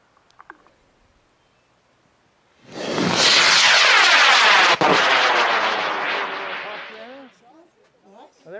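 A two-stage Sugar Shot Space Project test rocket lifts off with a sudden loud roaring rush that holds for several seconds, then fades into a fluttering, receding tail, preceded by a few faint clicks.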